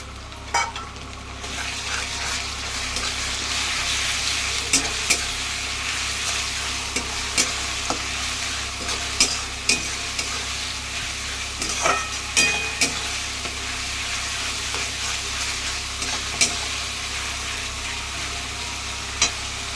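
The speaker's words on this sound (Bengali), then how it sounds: "এবার এর মধ্যে আমি 2টো বড় বড় পেঁয়াজ বাটা দিয়ে দিচ্ছি।" Onion paste fries in a pan with already browned onions, giving a continuous close sizzle broken by repeated sharp scrapes and taps of a stirring spoon.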